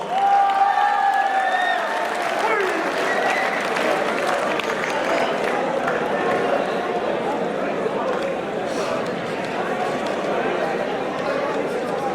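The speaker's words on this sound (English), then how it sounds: "Please give a huge round of applause." An audience at a school farewell function applauds steadily and fairly loudly, with chatter mixed in, filling the hall without a break for about twelve seconds.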